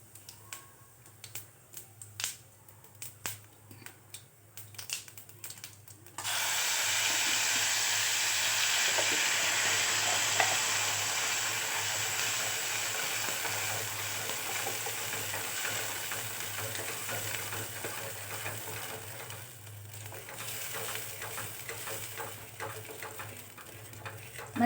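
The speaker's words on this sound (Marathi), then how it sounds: "मसाला चांगला 5 मिनिटं आपण हलवून घेणार आहोत." Ground spice paste hits hot oil in a wok for a pigeon pea (tur) dish, bursting into a loud, sustained sizzle that carries on steadily after a few sharp taps and clinks of stirring at the start.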